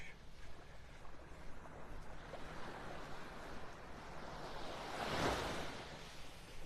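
Waves wash onto a beach in North Naples, Florida, a soft continuous rush of surf with wind, swelling into a brief louder breaker near the end.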